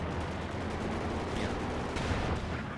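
Battle gunfire from Company of Heroes 2 during a 4v4 tournament match, with Panzer IV and an anti-tank gun under fire: a dense, continuous wash of shots and explosions, fairly loud and steady throughout.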